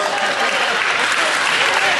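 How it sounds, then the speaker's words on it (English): A county fair audience breaks into a round of applause, a dense, steady wash of clapping from many hands that fills the whole stretch without pause. "give this guy a round of applause"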